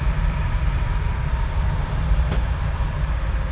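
A 1966 Ford Fairlane 500 with a 4-speed manual gearbox downshifting while climbing, its engine a loud, steady low drone with a brief faint click partway through, and no speech.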